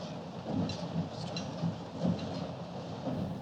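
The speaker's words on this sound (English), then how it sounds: "the train is vibrating and there's a sound of a glass hitting a plate" Film scene inside a vibrating train carriage: a steady low rumble of the moving train with faint rhythmic clinks of a glass rattling against a plate, no voices.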